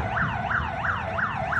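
Fire truck sirens wailing at a house fire blaze in a Hanoi street, a steady rising-and-falling wail repeating about every third of a second, loud and continuous with no voices.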